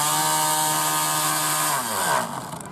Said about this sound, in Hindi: ये आपका बेंच ड्रिल है सर